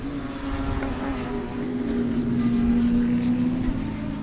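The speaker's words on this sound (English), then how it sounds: "you guys can hear those cars going down the straightaway behind me" Big Bore race cars at Sebring's Turkey Trot run down the straightaway at a distance, a steady droning engine tone that swells slightly and holds for several seconds.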